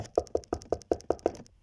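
Seven sharp knocks on a door land in a quick, even rhythm, close and distinct, then stop, with nothing else heard.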